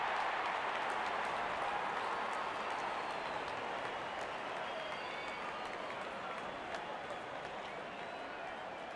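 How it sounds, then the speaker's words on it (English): A stadium crowd in the cricket video game Real Cricket 24, during an England versus New Zealand T20 match, sends up a steady, distant roar of cheering and clapping that holds evenly throughout. "Openers walking in and the crowd cheering in anticipation."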